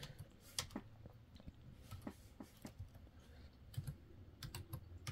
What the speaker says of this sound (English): I'm slow typing when I type from weird angles.